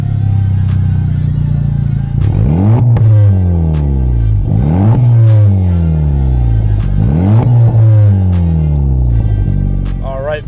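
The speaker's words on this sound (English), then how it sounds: "it is push button start. So obviously make sure you're in neutral, clutch in, hit the brake, and she fires right up." A 2023 Honda Civic Type R started by push button, its engine firing loudly up close and revving in repeated rising-and-falling sweeps with a steady deep rumble throughout.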